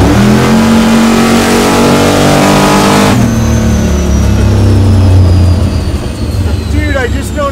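A 1200 hp Volvo car accelerates hard, its loud engine roaring steadily up close, then shifting and continuing to pull as tire and wind noise build; a voice talks over it.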